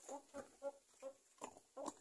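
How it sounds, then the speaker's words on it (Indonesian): Soft, faint clucking from a chicken in short, irregular bursts, heard alone with no talking. "ada ayam guys."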